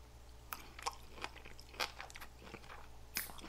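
Sliced steak bitten and chewed up close, quiet wet mouth sounds with several crisp bite clicks spread through the few seconds.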